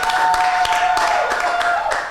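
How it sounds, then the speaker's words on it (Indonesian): A church group applauds steadily for a couple of seconds, a dense patter of clapping that fades slightly at the end. "tepuk tangan dulu."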